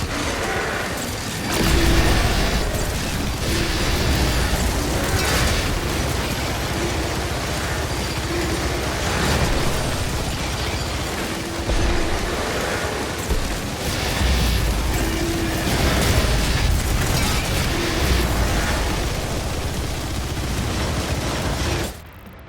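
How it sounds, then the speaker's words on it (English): A minigun firing without pause in the video game DOOM: The Dark Ages, a loud, dense roar of rapid shots and blasts that keeps going with only brief dips and stops abruptly at the end. "Minigun time? New gun?"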